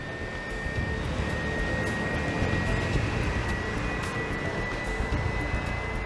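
Airliner engines droning steadily at a distance, a broad continuous roar with a faint high whine, unchanging for several seconds.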